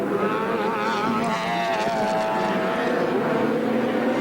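A Nissan GTR race car tears past at the 1992 Bathurst 1000, a loud, sustained engine roar with shifting pitch that fills the whole moment and never drops away.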